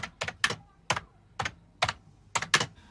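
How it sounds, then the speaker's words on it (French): Keys struck on a computer keyboard in short irregular bursts, about eight or nine crisp clicks spread over three seconds, close and clear with no talk. "ne sait pas du tout taper sur un clavier"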